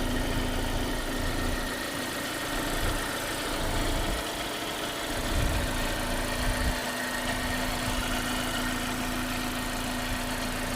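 A 2020 Hyundai Creta SX(O) diesel idles with a steady, close engine rumble and hum that holds constant throughout, with slight swells in the low drone and no voices.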